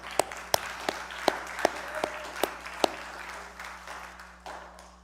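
Applause in a church congregation offered to the Lord, made up of scattered, separated claps that ring out one at a time over a faint background murmur, steady for a few seconds and then thinning out.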